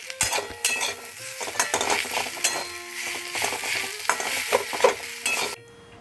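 Moringa leaves fry in a pan with a continuous crackling sizzle, while a metal spatula clinks and scrapes against the pan in quick bursts throughout, close up and without speech.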